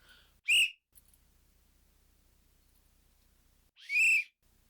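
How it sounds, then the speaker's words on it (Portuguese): A shrill whistle is blown twice, two short loud blasts separated by a few seconds of quiet. "Eu paguei tão caro nesse apito."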